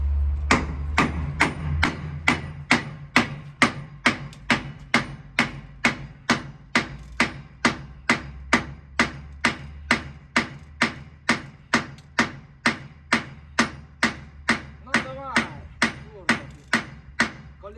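Repeated hammer blows knock on a stuck trailer wheel, a long steady series of sharp metallic strikes about twice a second, loud and close with no talking.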